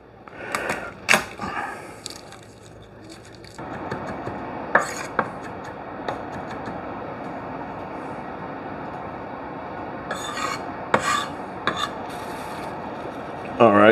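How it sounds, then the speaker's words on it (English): Garlic being chopped with a knife on a board in a home kitchen: scattered sharp knife taps and short bursts of rapid chopping, close and fairly loud over a steady background hum. "So let me chop up some garlic."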